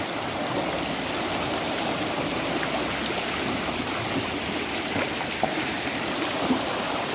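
Floodwater of a swollen river rushes beneath a bridge in a flooded town, giving a steady, loud, broadband roar with no pauses and no voices.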